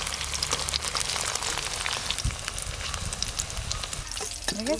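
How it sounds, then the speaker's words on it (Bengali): Cauliflower pieces sizzle steadily in hot oil in a pan as they are turned over, a continuous close frying hiss with occasional stirring scrapes and a brief faint voice near the end. "ফুলকপির একটু উল্টে পাল্টে ভালো করে ভেজে নেব"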